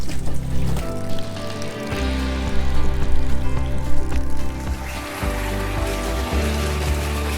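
Water pumped from a truck into an IBC tank on an off-grid homestead in Portugal, a steady loud pouring and splashing rush with a low mechanical hum underneath, with no voices.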